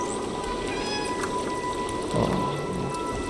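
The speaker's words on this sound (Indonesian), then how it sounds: "Press left alt to meow." A cat meows in the video game Stray, a short mew rising over steady rain-like ambient noise and a sustained background tone, with a faint voice nearby.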